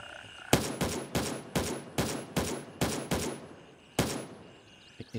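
Rapid bursts of gunfire in the video game Gray Zone Warfare crack in quick succession, about eight sharp shots evenly spaced, then one more after a brief pause.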